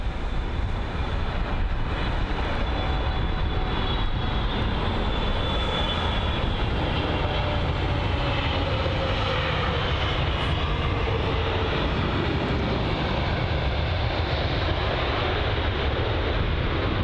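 A Singapore Airlines Boeing 777 touching down at London Heathrow in gusty conditions, its engines a loud, steady broadband roar that holds close and constant throughout.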